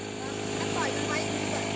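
A small petrol generator engine drones steadily at close range, a constant buzzing hum with a tonal whine riding over it and no gaps.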